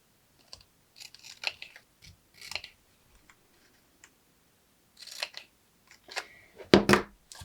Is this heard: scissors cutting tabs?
yes